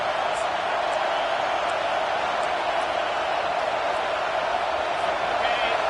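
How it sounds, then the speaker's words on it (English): A football stadium crowd roars in a steady, dense wall of cheering that holds evenly from start to finish without breaks. "this crowd will blow out a vocal cord to help this defense"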